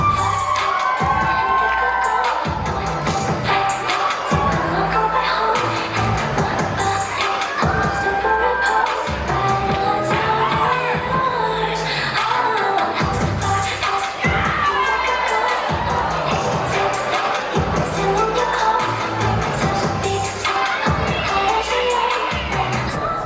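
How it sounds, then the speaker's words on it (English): A crowd of students cheers and shouts at a school show at East High, a loud, continuous mass of voices with whoops and children's yells over a steady pounding music beat. "Everyone's cheering, everyone's enjoying this like amazing show"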